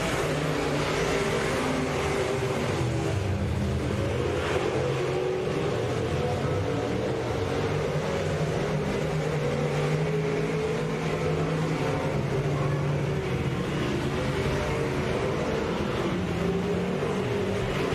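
Stock cars racing at Boothill Speedway: a continuous, dense roar of several engines at full throttle, rising and falling slightly as the cars pass, loud and unbroken throughout.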